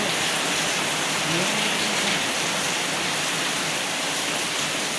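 Heavy rain pours down continuously, a dense, loud, even hiss of drops on surfaces filling the whole stretch without pause.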